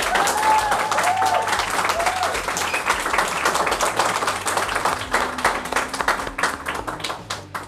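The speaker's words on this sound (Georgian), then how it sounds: "ამ ტურს აუცილებლად ძალიან მაგარი ტაში მოუწევთ" A studio audience applauds dense and sustained at the end of a round in a legal quiz final; the clapping holds strong, then thins slightly toward the end, with a few faint tonal sounds underneath.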